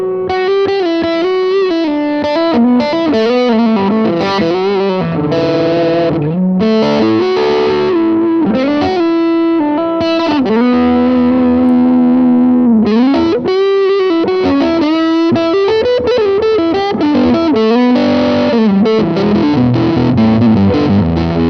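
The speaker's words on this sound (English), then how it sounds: "JHS Crimson, which is based on a big muff pedal." Lead electric guitar through a JHS Crimson fuzz pedal, a Big Muff style circuit, with a tube amp; thick, saturated sustained notes and bends flow continuously in a loud, dense melodic line, up close with no talking.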